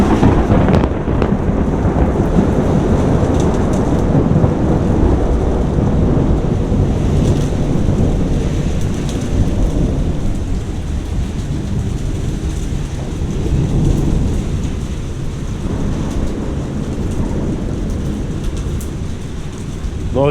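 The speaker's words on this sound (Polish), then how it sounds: "takich burz w Europie nie ma" A heavy thunderstorm in Paraguay pours steady, loud rain throughout, with rolling thunder rumbling underneath and no voices over it.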